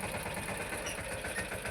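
A tractor engine runs near a sesame field, giving a steady, moderately loud idling rumble with a slight pulsing throb throughout and no voices.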